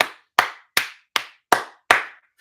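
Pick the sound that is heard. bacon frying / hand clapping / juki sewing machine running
hand clapping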